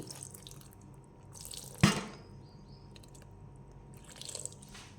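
A single short splash of water poured into a pan, followed by faint drips and quiet kitchen background.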